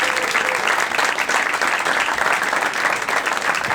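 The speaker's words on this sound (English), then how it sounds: "keep that applause going" Comedy club audience at a fringe comedy festival clapping loudly and continuously, a thick unbroken wash of applause with no voices standing out.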